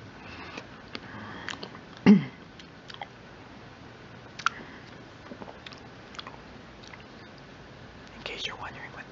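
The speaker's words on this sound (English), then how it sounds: "if you can hear a slight crunchiness, I have nuts on my Sundae." Someone eats an ice cream sundae topped with nuts close to the microphone, giving soft wet chewing with faint crunches and one sharper bite, while quiet whispering runs underneath.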